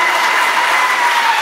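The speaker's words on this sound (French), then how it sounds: "des applaudissements pour tous ces enfants" A gala crowd gives the children a steady, continuous wash of applause. It is loud and even throughout, a dense roar of many hands with no distinct single claps and no voices on top.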